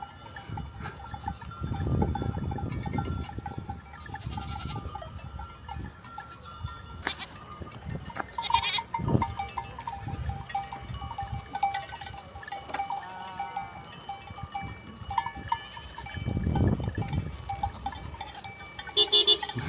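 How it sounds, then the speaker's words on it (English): A large herd of goats moves down a main road, with scattered bleats rising over a continuous clatter of bells and hooves, louder bursts of bleating coming now and then from nearby animals. "we're being held up by this big herd of goats coming down the main road"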